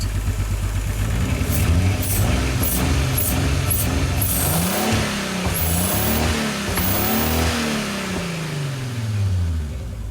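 A turbocharged VR6 engine swapped into a Pontiac Fiero runs steadily, and several rising and falling revs come through a loud, continuous rumble with hissing bursts. No one talks.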